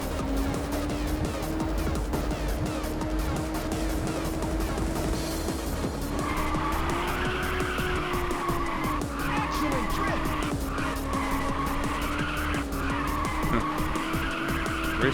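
A race car in the PSP game Ridge Racer drifts through corners. Its engine drones steadily while tires squeal and skid in repeated long screeches, loud and close throughout.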